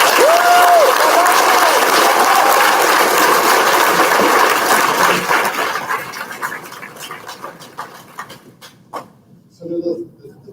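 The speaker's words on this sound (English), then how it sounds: "So we give a round of applause for" Audience applause at the Redwater 2019 awards ceremony, a loud sustained crowd clapping that fades after several seconds into scattered claps, murmurs and a brief voice near the end.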